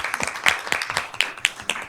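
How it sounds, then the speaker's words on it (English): An audience at a board of education meeting applauds, with sharp, evenly spaced claps standing out above a lighter wash of clapping. The applause is moderately loud and steady throughout, with little talk. "Round of applause."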